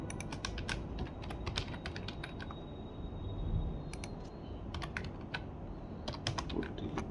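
Rapid typing on a computer keyboard while code is copied and pasted, with quick bursts of crisp key clicks separated by short pauses, close and fairly quiet.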